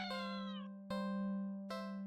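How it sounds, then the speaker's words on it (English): A cat in a visual novel game meows three times in close succession, each call loud and drawn out, sounding alone without any talk. "You walk to the entrance of the alley, the cat meowing at you."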